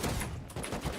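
Tommy gun fire in an online shooter: a dense, continuous burst of automatic shots filling the whole second, loud and close.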